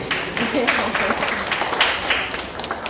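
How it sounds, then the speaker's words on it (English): A school board meeting audience gives a round of applause, a dense patter of many hands at moderate volume. A voice talks over the clapping for the whole stretch. "Give me a round of applause"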